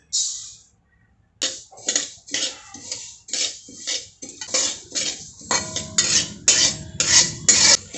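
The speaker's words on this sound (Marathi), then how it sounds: "त्याच कढईमध्ये आता आपण तीळ भाजून घेणार आहोत" Sesame seeds are stirred in a wok with a metal spatula, making a series of repeated scraping and clinking strokes, fairly close and clear, with no talk.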